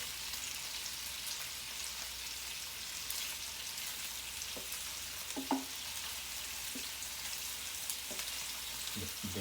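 Meatballs fry in a Power XL cooker with a steady soft sizzle, while occasional light knocks and scrapes come from turning them; no voices are heard.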